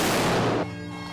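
A rifle volley fired as a salute for a fallen police officer in Maui: one loud, sharp crack from several rifles at once, then a fading echo and ringing tail.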